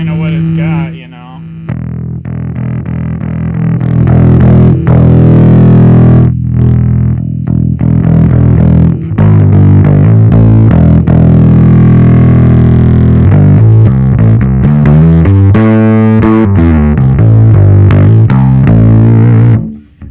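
A bass guitar played through a Pigtronix Philosopher bass compressor micro pedal, giving a thick, gritty, distorted tone with sustained notes and shifting riffs throughout, loud and close.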